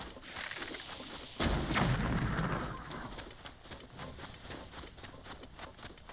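A bomb blast in The Legend of Zelda: Breath of the Wild, played in Master Mode: a loud, deep boom that swells abruptly, then rumbles and fades into softer, steady game ambience.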